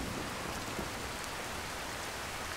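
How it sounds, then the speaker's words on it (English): Heavy rain pours steadily in the video game Skyrim, a dense continuous hiss of falling water with no voices over it. "it's pouring rain"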